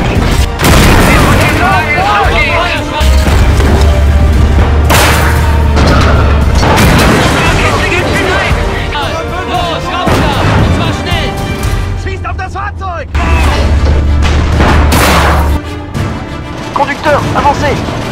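Tank cannon fire and explosions in the WWII game Call to Arms: Gates of Hell, Battle of Stonne 1940: repeated heavy booms and crashing blasts over a constant low rumble, loud throughout, with voices giving orders in between.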